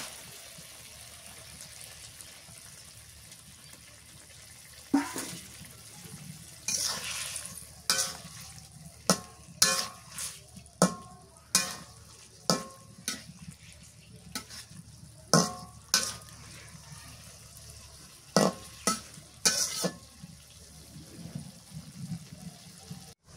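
Hilsa fish head sautéing with spices in a pan, a soft continuous sizzle broken by repeated sharp scraping and stirring strokes of a spatula, close and fairly loud, irregular in rhythm, with no talk.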